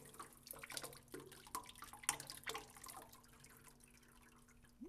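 Oil drips from a smoked Ford 4R100 transmission, faint scattered drops ticking and plinking at an uneven pace, some quick clusters and a few louder splats, over a quiet background hum.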